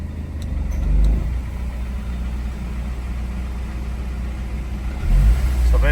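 A car engine idles steadily up close with the air conditioning switched on, a low even drone that surges briefly near the start and again toward the end as the idle compensates for the load.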